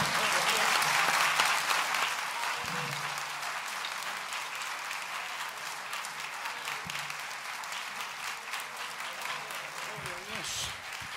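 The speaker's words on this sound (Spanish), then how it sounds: "Damos un aplauso al Señor." A church congregation claps steadily during a Sunday service, loud at first then easing into sustained applause, with a few voices breaking through.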